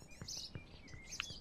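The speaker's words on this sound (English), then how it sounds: "we've got bird noises recorded from just outside in my garden, actually" Faint birdsong recorded in a garden and used as ambience in the game Hereford 1642: a few soft chirps and high tweets over a quiet background, with no talking.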